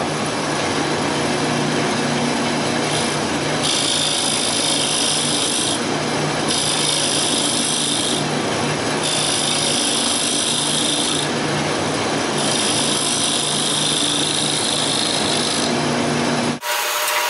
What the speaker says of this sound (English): I'm trying to blend in the grooves and the lines with the gouge left.